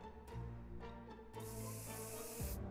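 Bug spray hisses from a can in the survival game 60 Seconds, a short burst followed by a longer steady spray over quiet in-game music.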